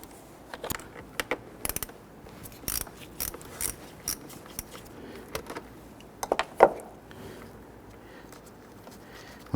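A ratchet wrench clicks in short irregular bursts while loosening the 10mm battery terminal nut on a 2006-2014 Honda Ridgeline, close and fairly quiet, with scattered metallic taps between the runs of clicks.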